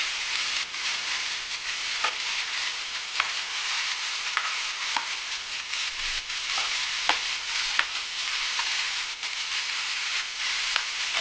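Pavata bhaji frying in oil, a steady broadband sizzle with occasional stirring clicks and scrapes throughout, close and even in level, with no voices.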